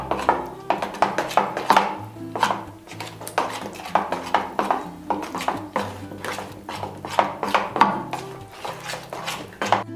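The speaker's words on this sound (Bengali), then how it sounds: "সব উপকরণগুলো ভালো করে মিশিয়ে নেব" Pumpkin and semolina batter being mixed in a bowl, a spoon knocking and scraping against the sides in a rhythmic series of close, fairly loud strokes, with no talk.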